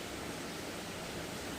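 Water pours into a vessel to fill it, making a continuous, even rushing hiss that stays steady from start to end with no voices.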